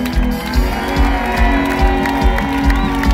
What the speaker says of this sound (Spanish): Vamos a dar esa ovación a Manuel.